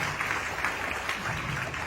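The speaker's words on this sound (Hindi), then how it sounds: "उनके लिए एक बार शानदार तालियां" Audience clapping at an IMC business event, a steady, dense crackle of many hands filling the whole stretch at moderate distance, with no pauses.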